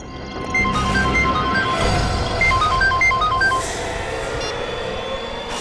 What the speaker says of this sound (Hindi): ये रिंगटोन तो बढ़ती ही जा रही है